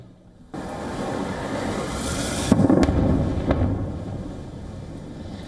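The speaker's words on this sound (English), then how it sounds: "there were constant explosions that were carried out by the Israelis in several South Lebanese villages" Explosions from Israeli bombing of villages in South Lebanon, heard as a constant distant roar with a couple of sharper booms rising above the rumble.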